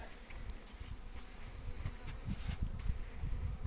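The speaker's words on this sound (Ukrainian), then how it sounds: "Ну є бджола, є, бачите." A low, continuous buzz of a honeybee droning close by at a hive water feeder, faint and steady.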